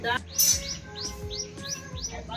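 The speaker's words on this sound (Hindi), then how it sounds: "चिड़िया भी इंतजार में है" Small birds chirp in quick, repeated tweets waiting to be fed bread, with several bright calls spread through the clip over a steady low background hum.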